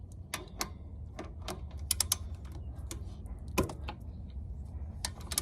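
A 17mm ratchet works on the oil drain plug of a Tao Motor Pony 50cc scooter, giving a series of close, sharp clicking ratchet strokes in an irregular rhythm, with no talking.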